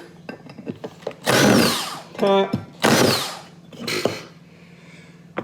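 A power drill whirs in several loud bursts, revving up and stopping while removing screws from a Stanley hand plane, with clicks and handling noises between runs nearby.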